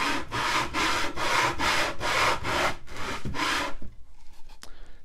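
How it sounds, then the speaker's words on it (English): Wood piece stroked back and forth on sandpaper taped to a board, a series of about eight loud rasping strokes in a steady rhythm, heard up close and alone before it falls quiet. "To sand off the high points."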